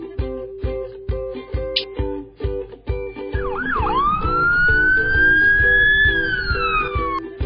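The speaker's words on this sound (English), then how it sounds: "Wrong, it's ambulance." After a short run of plucky musical tones, an ambulance siren in a children's vehicle-learning video game rises into a loud, sustained wail that sweeps slowly up and down.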